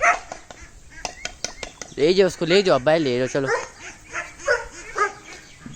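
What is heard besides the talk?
dogs barking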